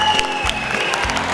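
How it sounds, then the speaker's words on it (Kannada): An audience claps for students at a charity event held by a college in Mangaluru, a short burst of dense applause from a crowd, close and fairly loud. "ಅವ್ರಿಗೊಂದ್ಸತಿ ಜೋರಾಗಿ ಚಪ್ಪಾಳೆ ಒಂದು ಕೊಟ್ರೆ ಎಲ್ಲರಿಗೂ ಸಂತೋಷ ಆಗುತ್ತೆ"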